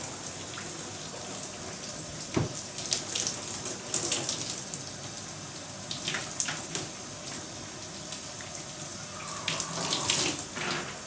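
Water runs from a tap during rinsing, a steady hiss of flow broken by irregular splashes and drips, close and moderately loud, with no voices.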